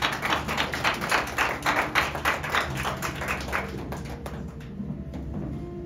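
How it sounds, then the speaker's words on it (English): A church congregation claps their hands together in a steady, rhythmic beat of crisp, close claps for about four seconds before the clapping thins out and fades. "Brother Nsawi said, let's clap hands for him"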